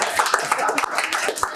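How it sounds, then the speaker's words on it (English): A council meeting audience in Dawson Creek claps briefly in a short burst of scattered hand claps, mixed with murmuring voices. "You can clap if you like."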